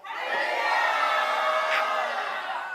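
A church revival-meeting congregation roars in continuous cheering and shouting, a dense, loud wall of crowd voices sustained without break.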